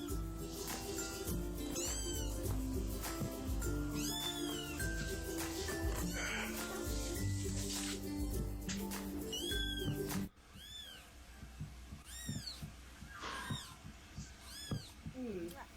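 Kittens meow repeatedly in high, rising-falling cries, loud and near over a busy background at first, then clearer and more isolated after a sudden drop in the background, with a voice faintly present.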